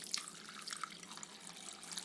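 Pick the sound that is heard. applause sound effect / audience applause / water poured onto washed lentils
water poured onto washed lentils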